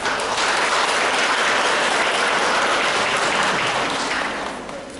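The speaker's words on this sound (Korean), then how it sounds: "박수로 환영해 주시기 바랍니다." Loud, dense applause from an audience at a legal forum on community integration for people with psychiatric disabilities, welcoming a discussion speaker; the clapping stays steady for about four seconds, then fades toward the end.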